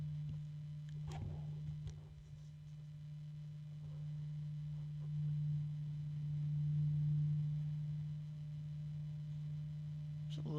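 A Cooler Master computer fan spinning at 2400 RPM puts out a quiet, steady tonal hum with faint airy whoosh, joined by a few small ticks and clicks.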